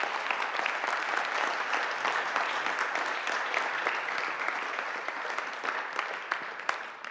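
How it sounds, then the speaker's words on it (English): Sustained, dense applause from a large audience at a special event on access to finance for young people, a steady wash of clapping with sharper individual claps standing out toward the end. "The biggest round of applause for our future."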